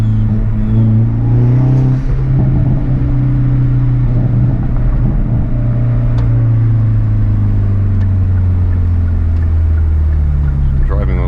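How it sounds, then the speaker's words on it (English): A Hyundai Veloster N with an SXTH Element intake, driven with a manual gearbox, rumbles and revs close up, exhaust drone and intake growl rising and falling steadily for the whole stretch with no talk over it. "Oh, so the exhaust along with the intake sound,"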